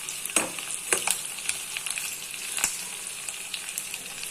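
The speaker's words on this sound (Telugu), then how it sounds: "చూడండి బాగా ఫ్రై అవుతున్నాయి కదా." Liver frying in a pan gives a steady close sizzle with a few sharp crackles and pops spread through it and no talk over it.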